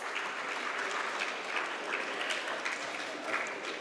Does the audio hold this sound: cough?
no